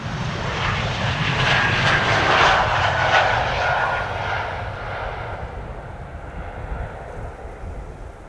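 An airliner lands on runway 36R at Amsterdam Schiphol with a loud, swelling engine roar that peaks early and then fades to a lower rumble as it passes and moves away.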